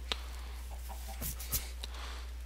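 Chickens in a Minecraft farm give a few scattered, fairly faint clucks against a constant low background hum.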